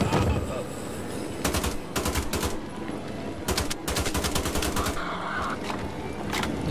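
Bursts of automatic gunfire in Wolfenstein The Old Blood rattle in rapid volleys separated by short pauses, loud and close, with a zombie fight underway.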